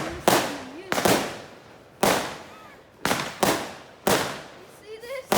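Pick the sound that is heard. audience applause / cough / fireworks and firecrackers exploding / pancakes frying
fireworks and firecrackers exploding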